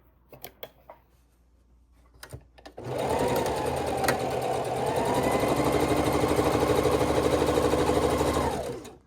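A few light clicks sound before a sewing machine starts stitching the seams of a half-square-triangle quilt made from charm-pack fabric. Its steady, close mechanical whir runs without a break for about six seconds.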